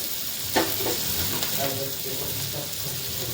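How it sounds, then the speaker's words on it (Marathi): Onion frying in a pan until reddish for a dry radish-pod vegetable dish, a soft steady sizzle with a few scraping stirs near the start, moderately quiet and without speech. "कांदा सुद्धा असा लालसर भाजून घ्यायचा"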